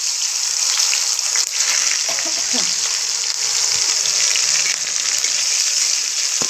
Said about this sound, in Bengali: চিকেনের ঝোল পরে তেল গরম হয়ে গেছে বন্ধুরা দিলাম